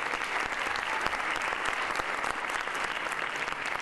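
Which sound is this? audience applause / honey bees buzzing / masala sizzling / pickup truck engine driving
audience applause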